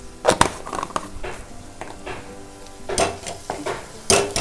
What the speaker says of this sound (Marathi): हे असं परतच राहायचं आहे